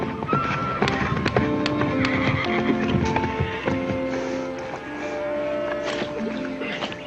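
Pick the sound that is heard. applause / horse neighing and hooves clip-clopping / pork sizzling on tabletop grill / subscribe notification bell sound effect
horse neighing and hooves clip-clopping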